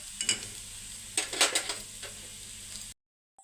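Onion with turmeric, red chilli, garam masala and coriander powder being stirred in a hot pan, a soft steady sizzle broken by several scraping stirs of a spoon, then cutting abruptly to silence.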